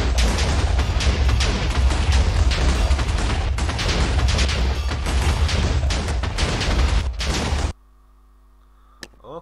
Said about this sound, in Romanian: Nu știam de chestia asta cu exploziile de la final.